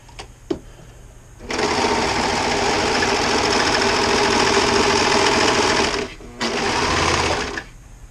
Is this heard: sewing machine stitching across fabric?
yes